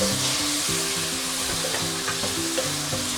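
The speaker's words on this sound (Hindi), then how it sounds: "और अब इसी ऑयल में हम ये टमाटर डालेंगे, इन्हें भी थोड़ा सॉफ्ट करेंगे।" Tomatoes frying in oil left over from cooking chicken, a loud, close, continuous sizzle with light stirring over a low tonal background.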